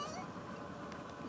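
A drawn-out cat meow on the way to the vet, fairly soft, with some faint background noise.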